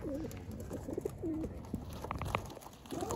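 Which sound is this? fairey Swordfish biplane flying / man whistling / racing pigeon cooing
racing pigeon cooing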